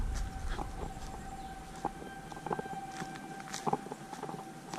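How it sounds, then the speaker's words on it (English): Emergency tornado warning sirens sound a steady, distant wail during a quarterly outdoor test, with footsteps and faint outdoor noise nearby. "it's our quarterly test of the emergency sirens in case there's a tornado or a nuclear accident."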